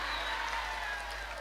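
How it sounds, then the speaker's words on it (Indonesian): A crowd at an Islamic sermon claps in a steady, even wash of applause that holds for the whole moment without breaks. "Iki sing tepuk tangan iki temen iki."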